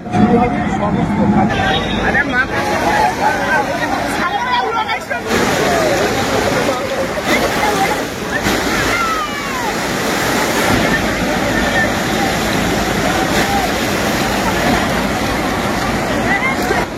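Large waves roll in at the Gangasagar shore during the crowded Gangasagar Mela, a loud, continuous surf roar with wind buffeting, while a person talks over it and a crowd murmurs behind.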